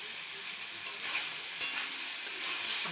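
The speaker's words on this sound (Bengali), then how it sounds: "এটাকে ভালো করে কষাবো।" Chickpea masala with yogurt sizzles softly in a pan while being stirred. The frying hiss is faint and steady, with light scraping of the spoon and one brief clink.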